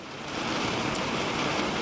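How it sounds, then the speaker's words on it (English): Heavy rain pours down steadily outdoors, a dense, constant hiss of drops on surfaces that swells in the first moment and then holds loud and unbroken. "It is really, really raining a lot right now"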